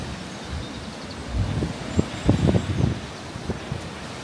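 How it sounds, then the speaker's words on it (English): Wind gusting on a microphone outdoors at an Irish farmhouse homestead, a low rumbling buffet with several louder bursts in the middle, no one talking. "I'm sorry about the wind."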